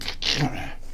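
A person sneezes once during a Dungeons & Dragons tabletop game session: a single short, sharp, breathy burst, close and fairly loud, over a low room murmur.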